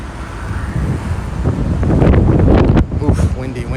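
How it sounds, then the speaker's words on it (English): Strong gusty wind buffeting a microphone outdoors on a New York City street, loud and continuous with surging rumble, faint traffic underneath. "Oof, windy here."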